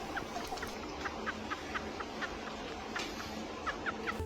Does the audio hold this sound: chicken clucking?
yes